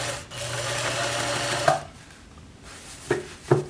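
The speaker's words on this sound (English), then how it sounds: "The needle feeds through the loop and it makes another stitch" Sewing machine stitching a hem on draperies, a short close run of needle clatter that stops, followed by a couple of soft clicks and knocks in the quiet.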